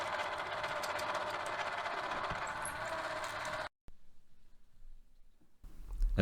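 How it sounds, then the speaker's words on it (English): A mini lathe drilling and reaming whirs steadily with a buzzing mechanical hum, then cuts out abruptly, leaving near silence before a faint rustle at the end. "Spot drilling, drilling and reaming."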